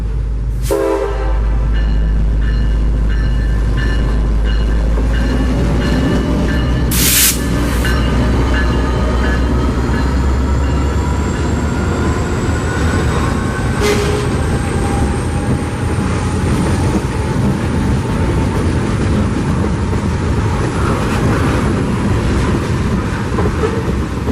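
A long freight train led by an SD50-3 locomotive rolls past near Winston, heading to Auburndale, with a blast of the horn early on and a steady roar of rumbling wagons and wheel screech that continues loud throughout.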